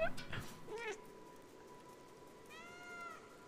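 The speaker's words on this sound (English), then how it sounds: "left alt to meow" A cat in the video game Stray gives a couple of short, fairly quiet meows, heard alone over a faint background hum.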